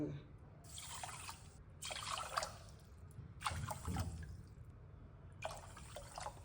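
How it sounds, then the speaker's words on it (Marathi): Four bowls of water poured into sugar in a pot for semolina halwa, in four separate gushing pours with short pauses between them, close and moderately loud over low background noise. "साखरेमध्ये आपण चार वाट्या पाणी टाकू"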